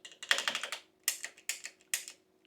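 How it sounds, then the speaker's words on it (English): A Shimano rapid fire derailleur shifter on an electric bike clicks quickly through its gears, sounding as several rapid bursts of crisp, close plastic-and-metal ticks separated by brief pauses, with no voices. "Shimano derailleur shifter. This is actually the rapid fire style. See how fast you can click through those?"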